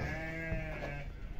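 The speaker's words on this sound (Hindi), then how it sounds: "यहाँ पे सफ़ेद हमारी भेड़े हैं" Sheep bleating on a livestock farm where white sheep and lambs are kept: a quiet, wavering bleat over a steady background hum, with no one speaking.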